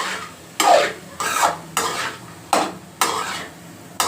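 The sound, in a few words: stirring pepper-cumin powder into tamarind rice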